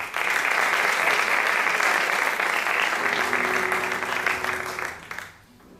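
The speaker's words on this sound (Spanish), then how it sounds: "Un aplauso para ellos." Audience applauding flamenco musicians in Ibiza, a dense steady clapping that holds loud for about five seconds, with a faint sustained instrumental tone entering midway, then fades quickly.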